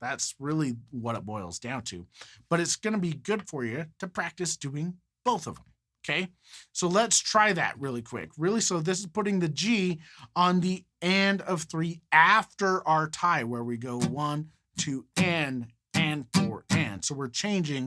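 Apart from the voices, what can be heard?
No distinct noise like a dog, phone or traffic.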